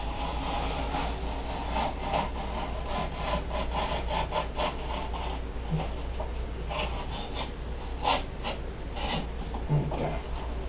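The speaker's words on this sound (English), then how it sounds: "Go ahead and get your bevels cut." Foam board being cut with bevels for an FT Racer model plane, heard as rapid scraping and rubbing strokes in uneven bursts, close up with no talking.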